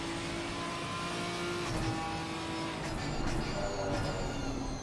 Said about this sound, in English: you gotta love the sound of that Ginetta driving on the right side of the car